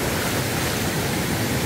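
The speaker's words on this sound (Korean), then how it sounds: "여기 이제 폭포수처럼 내려가는데요" Mountain valley stream water pours over a check dam like a waterfall in Gangwon-do's Samil Valley, a loud, dense, continuous rushing roar heard up close with no talk.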